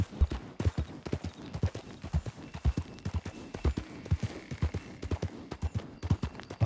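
Horse hooves clip-clop at a steady trot in Red Dead Redemption 2, crisp regular hoofbeats close up and clear, with faint ambient game sound beneath and no talk.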